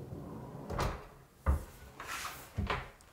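A drawer or cabinet door on a bathroom vanity under a washbasin in a two-storey house, opened and closed three times in quick succession, each a short close wooden thump with a sliding rattle, with no voices.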